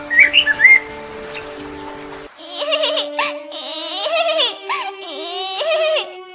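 A cartoon bird daughter cries in high, wavering sobbing wails after a brief burst of bird chirps, the crying voiced by a performer and heard clearly on its own.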